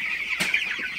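Broiler chickens in a shed at night make a brief cluck over a high, steady background chatter from the flock drinking water, all within about a second.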